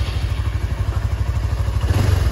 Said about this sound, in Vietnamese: mình sẽ nổ máy cho các bạn nghe thử nha